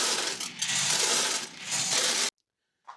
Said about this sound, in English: And then I just tip the box, and I use my hand to fill the pellet.